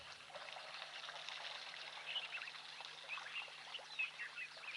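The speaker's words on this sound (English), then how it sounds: "The splashing and the sucking up of water." An animal drinking at a water hole heard from a wildlife hide, with soft trickling, splashing and sucking of water, faint bird calls scattered over the top.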